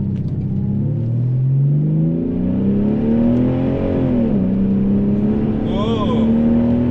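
A 1995 Porsche 911 Carrera 2 GT2 accelerates hard on a road test drive, its engine note climbing steadily in pitch through the gears, loud and close throughout with a brief shift dip midway.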